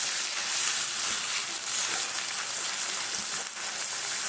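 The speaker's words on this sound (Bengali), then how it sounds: "দেখো পেঁয়াজটাকে ভাজবো," Onions deep-frying in oil until crisp, like birista, giving a dense, continuous hissing sizzle that stays loud and even throughout.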